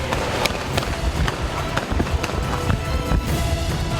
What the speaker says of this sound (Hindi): पुलिस की जानिब से उन्हें रोकने के लिए शदीद हवाई फायरिंग की गई और आंसू गैस के शेल बरसाए गए